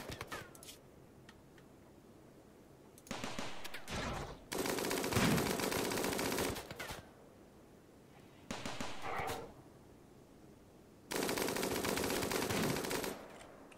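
Gunfire in the video game RimWorld comes as several bursts of rapid automatic shots. Each burst lasts a second or two, and quieter gaps separate them.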